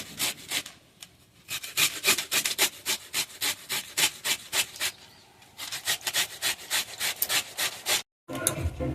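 Onion being rubbed against a grater for an egg curry gravy, a close, rhythmic series of rasping scrapes, roughly two strokes per second, pausing briefly before resuming.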